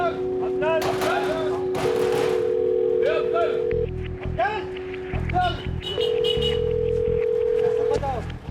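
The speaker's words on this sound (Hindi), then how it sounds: "तभी सीधे फ़ोन घुमाए मैनेजर साहब को" Telephone dial tone and dialing beeps from a phone call to a factory manager, with steady tone segments and keypad blips under ongoing speech and background noise.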